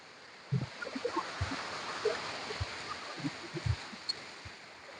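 A rain-swollen stream near Illikkal Kallu runs with a steady broadband rush of flowing water, broken by a few soft low thumps nearby.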